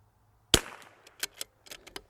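A single sharp .22LR rifle shot fired with Eley Match ammunition at a precision lot test, loud and close with a brief decaying tail, followed by a few faint clicks and rattles.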